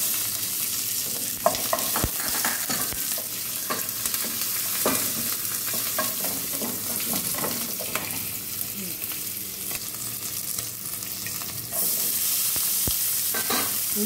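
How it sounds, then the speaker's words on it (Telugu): Sliced onions and green chillies fry in hot oil with asafoetida for pulusupindi, a tamarind upma, while a spoon stirs them steadily. The sizzle is close and continuous, with scraping and tapping stir strokes throughout. "ఉల్లిపాయ ముక్కలు, పచ్చిమిరకాయ ముక్కలు కొంచెం ఎక్కువ వేసుకుంటే బాగుంటాయి. ఇప్పుడు ఇవి బ్రౌన్ కలర్ వచ్చిన దాకా వేయించుకోవాలి."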